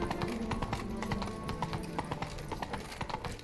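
Horse hooves clop in a steady, brisk rhythm in The Witcher 3, moderately close and fairly faint, with no talk over them.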